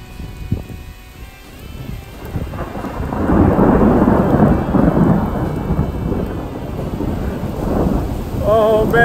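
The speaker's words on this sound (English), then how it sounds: "The storm is here." A rumbling roll of thunder swells and lingers over steady rain pattering on a surface at Wanless Lake in the Cabinet Mountains Wilderness, loud and close, with no voices.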